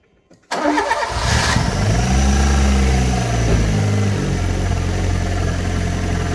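A Fiat Punto GT, a 1990s hot hatch, is started with the key: a brief crank catches at once and settles into a loud, steady idle with a slight rev, close and with no one speaking.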